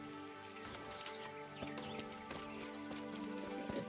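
In the Kingdom Come: Deliverance video game, a horse's hooves clip-clop under quiet game music and ambience, with a faint whinny, all soft and low in level.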